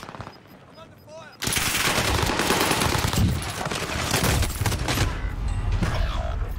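Dense bursts of rapid automatic gunfire in a battle royale video game, loud and sustained after a quiet opening, with overlapping shots filling the rest of the clip.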